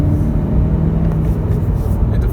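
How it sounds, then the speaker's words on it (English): 2018 Honda Civic VTEC Turbo pulling hard in third gear with the boost building again: a continuous, close low engine rumble from inside the cabin, with road noise. "Into third, the boost builds up again."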